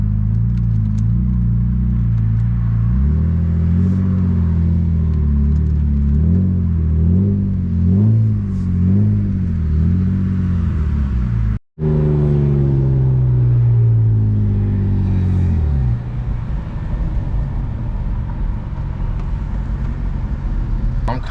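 A loud BMW E36 engine drones steadily at highway speed with repeated revving swells, then a sharp break, after which the engine tone climbs and settles into a sustained rumbling cruise, close and constant throughout.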